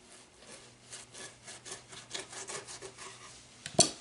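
A fox skin ear being trimmed by hand gives close, quiet rasping strokes in a steady rhythm, ending with one sharp click near the end.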